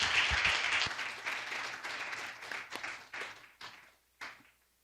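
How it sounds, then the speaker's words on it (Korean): A church congregation applauds warmly, dense clapping that starts strong and gradually thins into a few scattered claps before fading out. "우리 선교사님 나오실 때 박수로 뜨겁게 우리 환영하면서 맞이합시다."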